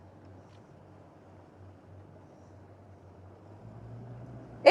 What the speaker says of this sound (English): How windy do you reckon it is, Shieldsy?